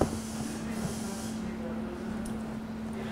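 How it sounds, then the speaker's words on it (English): Sea salt spray is misted onto hair in a barbershop, a soft continuous hiss running for several seconds over a low steady electrical hum. "Oh, the sea salt spray?"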